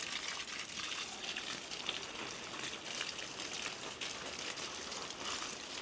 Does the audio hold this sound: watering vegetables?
yes